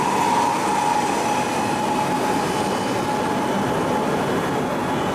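Steady, loud rush of a Shinkansen bullet train running past close by at a station, with rumbling wheel and rail noise holding continuously throughout and no voices.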